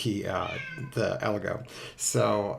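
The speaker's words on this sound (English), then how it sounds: "Sorry about the cat; he's really noisy." A noisy male cat meows loudly several times, its drawn-out cries rising and falling close by, with a person talking over and between the calls.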